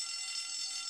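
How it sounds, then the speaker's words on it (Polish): A fire alarm rings steadily in a cartoon about a monster truck fire-rescue school, a continuous high electronic tone holding level and fairly loud through the whole short moment, with no voices over it. "Co to za dźwięk? To jest prawdziwy alarm."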